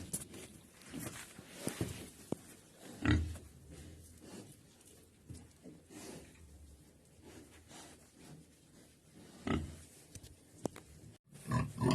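Low grunts from a sow being moved into a barn come at scattered intervals, close by, mixed with shuffling movement and occasional thumps.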